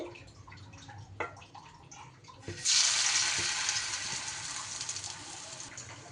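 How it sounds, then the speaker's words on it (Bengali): A loud burst of sizzling starts a few seconds in and continues as a steady crackling hiss as snacks of dough and boiled potato fry in hot oil over medium heat, after quieter clinks and movement. "এগুলোকেও মাঝারি আঁচে ওইভাবে উল্টে পাল্টে ভেজে নেব"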